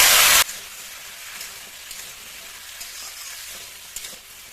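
Papaya, with potato nearby, frying uncovered in an open pan without water makes a soft, even sizzle, with a short loud burst at the very start and faint scattered ticks after, and no voices.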